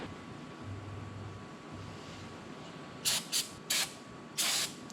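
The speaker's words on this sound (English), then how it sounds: "I'm just going to use some brake parts cleaner" Brake parts cleaner sprayed onto the intake of a 2013 Craftsman LT1500 riding mower in four short aerosol bursts, the last one longest, loud and close over a faint background hum.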